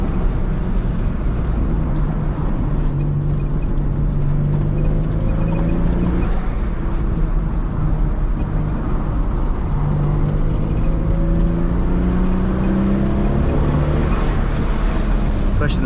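A high-mileage Toyota Supra cruises through a canyon at about 40 mph, its engine giving a steady close drone with slowly rising and falling tones over continuous road and wind rumble from inside the cabin.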